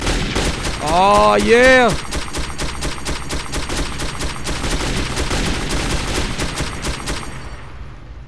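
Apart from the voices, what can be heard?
gunfire in the video game Metro 2033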